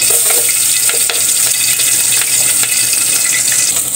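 Onions hit hot oil in a pot for fish sinigang sa miso, giving a loud, steady, close sizzle with light stirring scrapes throughout.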